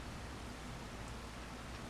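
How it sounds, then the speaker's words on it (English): Steady rain falling in the Farming Simulator 25 video game, a soft, even hiss of broadband patter that continues unbroken and fairly quiet throughout, with no voices over it. "I'm just going to wait for the rain to stop here."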